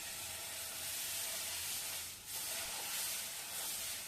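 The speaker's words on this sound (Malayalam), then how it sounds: "ഇനി ഞാൻ ദോശ ചൂടട്ടെ" Dosa batter with a little turmeric sizzles on a hot pan on the stove, a steady close hiss of frying and steam that dips briefly midway before carrying on.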